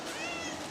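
A cat gives one short, clear meow close to the listener, with nothing else around it.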